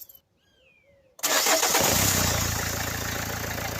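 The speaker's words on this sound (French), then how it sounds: "On va redémarrer le véhicule pendant 5 petites minutes." A Renault Clio 2 with the 1.5 dCi diesel engine cranks and fires after a near-silent second, then settles into a loud, steady close-up idle with a dense diesel clatter.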